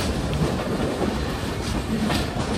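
The Harangul–Pune Express rushing past at speed near Dharashiv station, a loud continuous rumble with clattering wheels on the rails, close by and steady throughout.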